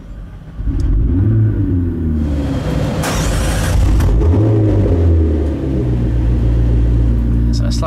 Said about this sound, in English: foot on the brake and start up the engine